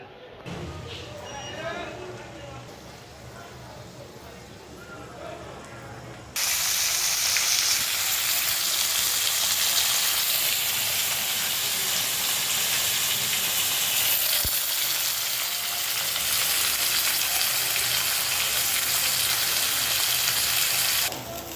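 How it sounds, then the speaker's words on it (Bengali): Lentil dumplings (dal bori) for a vegetarian dish fry in a pan, the soft opening giving way to a loud, continuous sizzle and hiss that persists to the end, with a voice speaking early on. "এখন নিরামিষটা রান্না করে নেব নিরামিষটা করব ডালের বড়ি দিয়ে"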